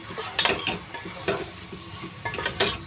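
Mango pieces and raw prawns in a spiced curry being stirred in a pan, with repeated scraping strokes of a spoon against the metal over a low simmering sizzle, close and fairly loud.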